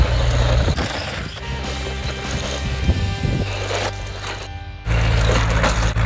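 Budget proportional-control RC toy car driving fast and drifting, a loud, continuous whirring motor drone with rattling and scraping bursts, a brief drop in intensity near the end before the engine noise surges back.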